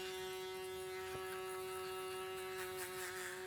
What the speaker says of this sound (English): making sure I'm not hearing any hairs being taken by my foil shaver